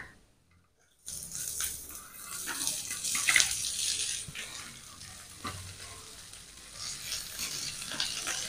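Chopped kalmi greens hit hot oil in a pan after a brief silence, setting off a loud sizzle that crackles on and off with stirring scrapes, no talking.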